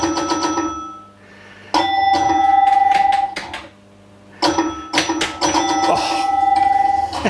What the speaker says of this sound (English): I gotta love the chimes and bells as well.